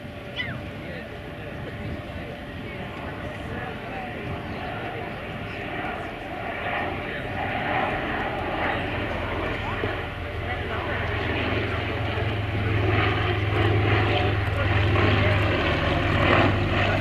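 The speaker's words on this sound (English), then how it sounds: "the finest two-seat fighter of the First World War" A Bristol Fighter, a WWI two-seat fighter biplane, its propeller engine droning steadily and loudly throughout, with a deep low rumble and someone speaking over it.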